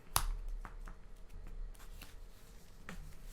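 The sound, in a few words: card shuffling in Magic: The Gathering video game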